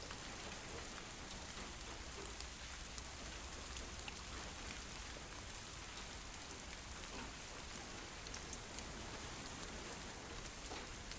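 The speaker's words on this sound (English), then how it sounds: "Raindrop. Because it's raining." Steady rain falls in the Herdling game, a constant dense patter on surfaces with no breaks, soft and even throughout.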